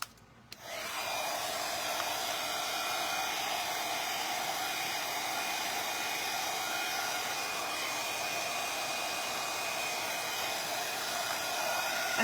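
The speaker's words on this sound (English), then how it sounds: "So this is just a simple heat gun." A heat gun starts after a brief quiet moment, then gives a steady, loud blowing roar with a faint high whine, running continuously on a constant setting.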